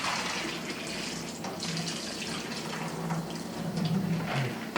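Raw shrimp are rinsed under running tap water, a steady close splashing stream that swells slightly toward the end, with no talk.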